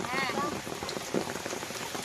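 Steady rain patters on surfaces around a home in the Sundarbans, a dense, continuous wash of drops with a voice briefly audible beneath it.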